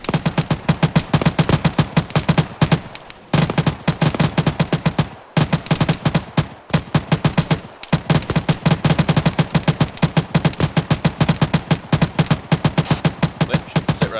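Heavy gunfire from enemy contact in the military game ArmA 3: dense bursts of automatic fire and rapid single shots crack almost continuously, loud and near, broken by a few brief pauses.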